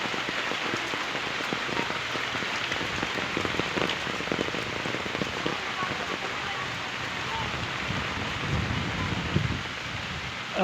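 Heavy typhoon rain pounds down at a seaside home, a dense continuous roar of drops on surfaces with occasional louder gusts, steady throughout with no talking.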